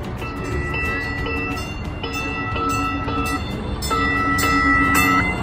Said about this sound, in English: just waiting to get on another train